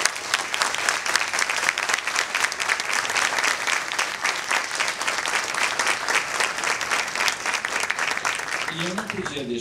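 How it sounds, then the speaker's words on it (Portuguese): Sustained audience applause at a forum event, dense steady clapping from a large crowd throughout, tapering slightly at the very end. "Eu gostaria de pedir uma salva de palmas para vocês."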